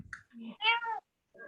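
A gray cat gives a few close, short meows in quick succession, a clear rising call followed by a pause and one softer closing mew, with no talk over them.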